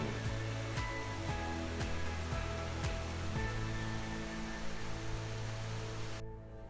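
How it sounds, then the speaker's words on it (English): Water from Rome's Trevi Fountain pours and splashes in a steady, dense rush, loud and continuous, with faint recurring chirps layered above it before it cuts off near the end. "the famous Trevi Fountain"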